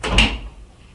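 A single solid door thud near the start, followed by a brief fading rattle and then quiet.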